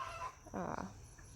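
A rooster or hen in a backyard flock gives a short burst of clucking, a single throaty call near the middle, heard over quiet background with no talk.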